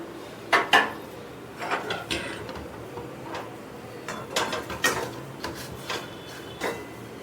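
Fish being sautéed with garam masala in a pan, heard as irregular metallic clinks and scrapes of a utensil against the pan, with soft frying underneath and no talk.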